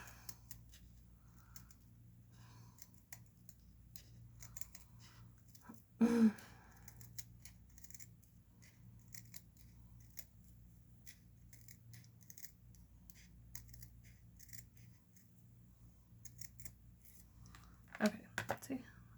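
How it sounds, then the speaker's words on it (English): Scissors snipping a strip of adhesive-backed glittery material, soft intermittent cutting clicks with two louder bursts of handling, close and quiet in an otherwise hushed setting. "just cut a little strip of it off"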